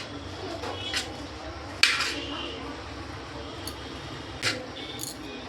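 Cumin powder and black pepper powder are stirred together for a crispy snack, producing soft, scattered clinks and scrapes of a utensil against a bowl over a steady low background hum.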